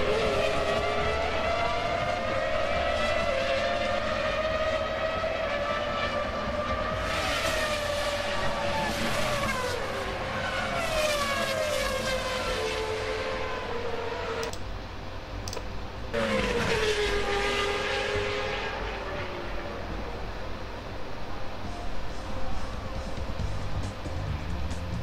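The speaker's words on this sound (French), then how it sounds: "Les voitures de 2001 font un son magnifique." 2001 Formula 1 cars racing at the Belgian Grand Prix, their high-revving engines rising and falling in long screaming sweeps as several cars pass, with a brief drop before another loud howl returns.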